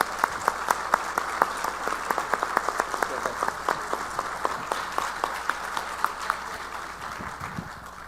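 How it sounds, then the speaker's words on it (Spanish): Audience applause at a judicial public-service lecture: dense, steady clapping from a sizable crowd that carries on for several seconds before thinning out near the end, with faint voices underneath. "Démosle un muy fuerte aplauso."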